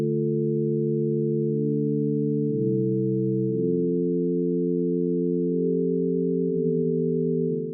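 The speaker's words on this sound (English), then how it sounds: "For a single sine wave, there is not much to split frequency-wise." Steady electronic test tones sustained for about eight seconds, several pure pitches holding and stepping between levels with no talk, a clean synthetic signal used to demonstrate frequency splitting in FL Studio.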